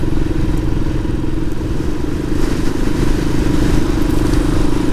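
A motorcycle engine drones steadily and loudly while riding uphill on Mount Teide in Tenerife, a constant low rumble mixed with wind noise and no pauses.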